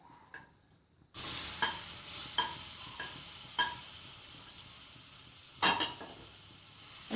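Chopped mango pieces fry in hot ghee, a bright steady sizzle starting abruptly and persisting, with repeated scraping stirs and clinks of a utensil against the pan, close and fairly loud.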